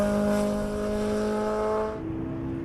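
Race cars on a hill climb course turn into a corner, their engines droning in loud steady tones that shift pitch as the power comes back on, with no voices over them.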